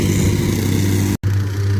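A tractor engine idles steadily on a site being prepped for concrete, a loud close low drone with a brief cut partway through before it resumes unchanged.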